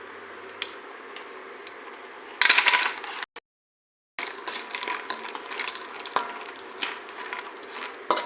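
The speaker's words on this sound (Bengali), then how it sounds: "এবারে ঘিতে কাজুটা ভেজে নেব।" Cashews frying in ghee in a pan, a steady soft sizzle throughout with a brief louder burst of crackling, a short break, then the sizzle resuming with occasional clicks.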